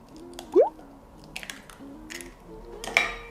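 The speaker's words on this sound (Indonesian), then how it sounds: "Kita pecahkan 4 butir telur." Four eggs being cracked for a steamed pandan cake, heard as a few soft taps and wet squishy drips with light clinks of kitchenware, quiet and close with no talking.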